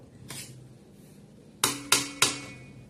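A spoon scrapes and knocks against a pan as hot semolina with cardamom is stirred, giving a soft early scrape followed by three sharp metallic taps close by, with no voices.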